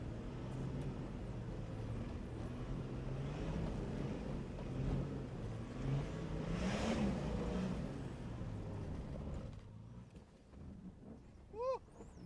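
A 4WD vehicle in second gear revs hard while its wheels fight for traction on slippery off-road ground. The engine roars continuously and loudly up close, then eases off near the end.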